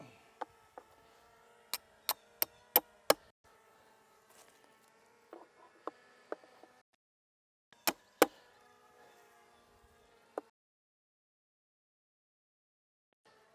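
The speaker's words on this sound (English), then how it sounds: "pegs to hammer in." Sharp knocks of a SkeeterVac mosquito trap's pegs being hammered into the ground, a quick run of five strikes, then scattered blows and two louder hits, close by in quiet surroundings.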